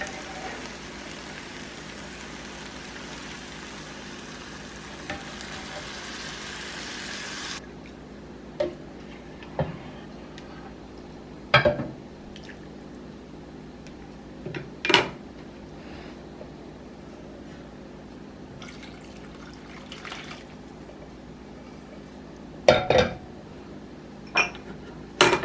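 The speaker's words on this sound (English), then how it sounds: "carefully we're going to add our stock" Stock ladled into a seafood paella in its pan: a steady hiss of pouring liquid for several seconds, then quiet with scattered sharp clinks of a metal ladle or spoon against the pan.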